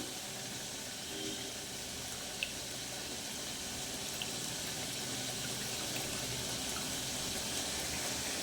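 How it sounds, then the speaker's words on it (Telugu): Tamarind water poured into a tomato masala curry in a home kitchen, a steady, even liquid rush running unbroken and fairly close throughout. "కొద్దిగా చింతపండు పులుసు అయితే పోసేసుకుంటున్నాను."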